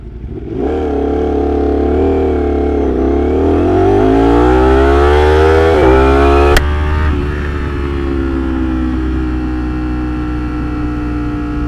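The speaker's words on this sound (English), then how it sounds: "Get some rev action. Need some more rev action." A Ducati motorcycle engine revs loudly and close, its pitch climbing steadily for several seconds, then dropping back after a sharp click and settling into a lower, sustained drone.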